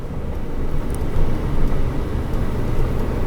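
A 2022 Tiffin Cahaba 19 SC 4x4 Class B motorhome on a Mercedes chassis rolls along at low speed, its steady engine and road rumble heard from inside, even and unbroken with no talking.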